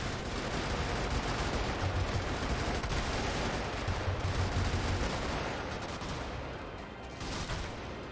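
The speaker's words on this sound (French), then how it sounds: "Ah mais c'est un espèce de fusil à rafale en fait." Dense, continuous gunfire crackles from a burst-fire rifle in the mech combat game Brigador, with rapid repeated shots and explosive noise blending into a steady, loud barrage.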